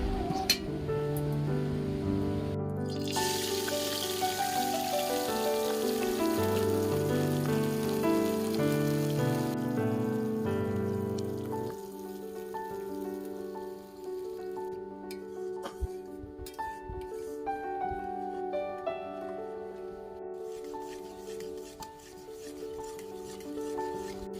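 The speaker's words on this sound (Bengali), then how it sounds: "দেখো মশলাটা ফুটতে শুরু করে দিয়েছে" Spice paste bubbles and spits in a pan while pabda fish curry cooks, a steady wet crackle that runs throughout under prominent background music.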